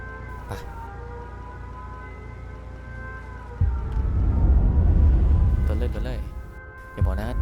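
Police car siren in the battle royale game H1Z1 King of the Kill, a steady wailing tone that grows louder and rougher midway, with players talking over it.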